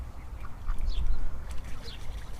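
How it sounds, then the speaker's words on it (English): Several short quacks from Indian runner ducks scattered over a steady low rumble of wind or outdoor noise, fairly close and moderately loud. "little Indian runner ducks"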